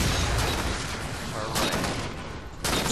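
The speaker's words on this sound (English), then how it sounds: "So, looks like I have to use my rockets." Rocket launcher blasts from an online shooter video game, dense broadband explosive bursts and gunfire clutter filling the whole stretch, loud and close with a fresh burst near the end, a voice talking over it.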